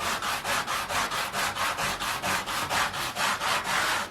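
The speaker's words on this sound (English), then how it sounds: "I like to take this real soft sanding pad and I like to hit the sides of the frets with" A soft sanding pad rubs back and forth along the sides of guitar frets in steady, even strokes of about four per second. It is close and alone, with no talking.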